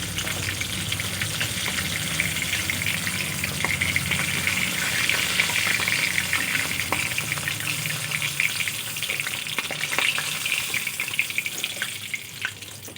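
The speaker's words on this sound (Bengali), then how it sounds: "বাকি মাছগুলো একইভাবে ভেজে নেব।" Pieces of rohu fish fry in hot oil with a continuous, even sizzle that stays loud and close throughout, with a few faint clicks.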